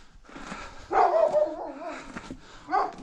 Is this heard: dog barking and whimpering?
yes